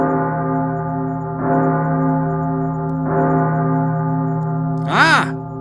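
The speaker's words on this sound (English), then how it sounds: "He's awoken by a loud gonging sound." A loud gonging doorbell rings out in slow, resonant strokes, each tone hanging and ringing on, with a sharper wavering chime near the end.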